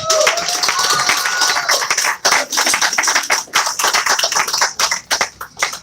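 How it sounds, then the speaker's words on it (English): At a human rights anniversary event, an audience claps in a loud, sustained burst with sharp individual hand strikes, thinning into scattered, uneven claps toward the end. "One more round of applause"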